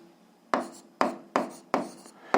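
Pen strokes scratching across paper while physics problem values are jotted down, five short distinct strokes at a steady pace, close and clear with no talking.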